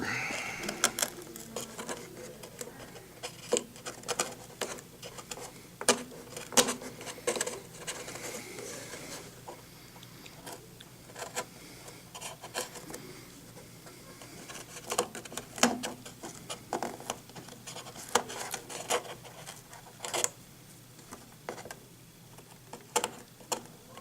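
Trimming and squaring a switch mounting hole in a Kadet LT-40 model aircraft, a long run of irregular small scraping, cutting and tapping sounds close up, with brief pauses between bursts.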